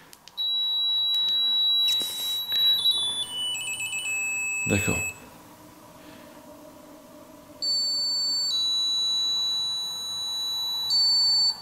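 A paranormal investigation detector device in a supposedly haunted house gives off sustained high electronic beeping tones that shift pitch in stepped runs, cutting out midway and resuming, with a person speaking briefly nearby.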